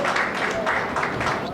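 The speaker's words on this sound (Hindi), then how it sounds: "आप जोरदार तालियां बजाएं भाई सैल भदावरी जी।" An audience at a Hindi kavi sammelan poetry gathering applauds to welcome a poet to the stage, a brief, steady wash of many hands clapping at moderate distance.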